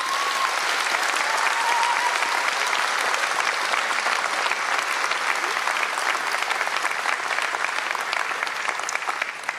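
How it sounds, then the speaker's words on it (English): Audience applause at a public celebration honouring Dame Jools Topp, a steady, loud, continuous wash of clapping from a large crowd that holds evenly for the whole stretch with no talk over it. "Big round of applause,"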